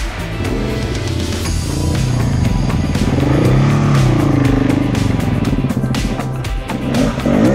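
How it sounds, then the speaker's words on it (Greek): Several off-road motorcycles roar past close by on a mountain trail in the Agrafa range, engines loud and sustained with rising and falling revs and clattering over rough ground. "Αφού πέρασαν όλες οι μηχανές"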